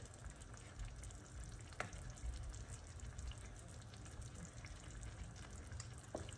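Burnt chicken wings fry in a pan in a home kitchen, a faint continuous sizzle with soft crackles and a couple of brief clinks, no talking.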